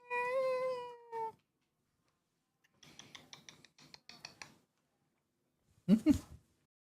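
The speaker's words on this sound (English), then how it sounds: "Meow." A cat gives a long, drawn-out meow up close, followed by a quieter second call, then soft scattered rustling and one short, sharp cry near the end, in a quiet room.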